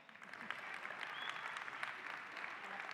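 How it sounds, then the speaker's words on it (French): An audience applauds at a business and network-marketing seminar, a steady dense clapping at moderate level that continues evenly for the whole stretch. "On peut l'applaudir, non"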